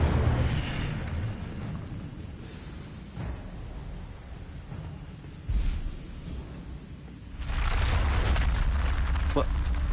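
Incendio fire spell from a Harry Potter video game, with a fiery burst near the start, a sharp pop midway and a louder roaring blast of flame toward the end over low game ambience.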